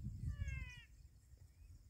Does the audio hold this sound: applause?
no